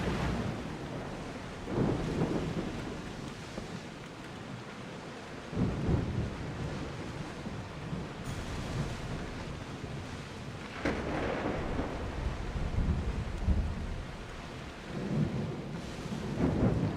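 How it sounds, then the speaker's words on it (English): Stormy weather at sea in Assassin's Creed Odyssey: steady heavy rain hiss with several deep rolling thunder swells, loud and continuous with no talk. "Commander, there's a storm!"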